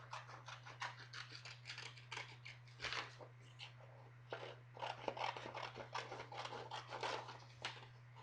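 Scissors snip out a paper picture in a rapid run of short crisp cuts and rustles, close but quiet, over a steady low electrical hum, with nobody speaking.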